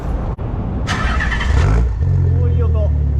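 A Nissan Z32 with a stock engine and HKS exhaust parts cranks briefly, catches and revs up loudly before settling into a steady, throaty idle, with voices in the background.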